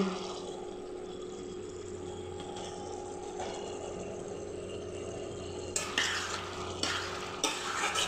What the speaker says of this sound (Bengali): নুনটা দেওয়ার পর ভালো করে একটু নেড়ে চেড়ে নিয়ে